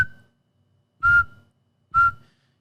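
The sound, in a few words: person whistling to imitate a beeping tone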